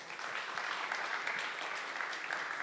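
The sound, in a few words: audience applause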